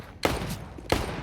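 Unsilenced rifle gunfire in Counter-Strike on the Mirage map during a fnatic vs. OG esports match, two sharp loud bursts about two-thirds of a second apart over a dense background of crowd and game noise.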